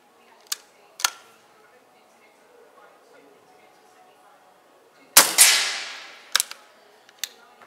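An air gun fires pellets at a target, giving several sharp cracks spread over a few seconds, one followed by a brief hissing burst, against a quiet background.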